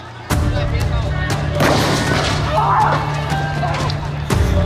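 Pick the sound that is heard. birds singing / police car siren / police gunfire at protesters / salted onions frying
police gunfire at protesters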